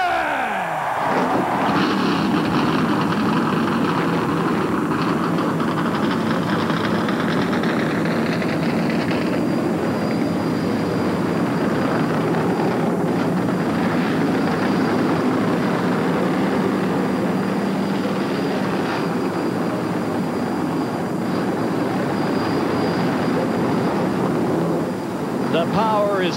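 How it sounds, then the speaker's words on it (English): Stock race car engines firing up on the grid before the 2000 DirecTV 500 NASCAR race, a loud, continuous roar of many engines blending into a dense drone with a crowd and announcer talking underneath. "Gentlemen, start your engine!"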